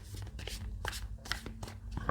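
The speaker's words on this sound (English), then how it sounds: "So I'm shuffling a few more cards here to get a bit more clarity for you" A deck of tarot cards is shuffled by hand close up, in quick repeated riffles and snaps with a faint background hum.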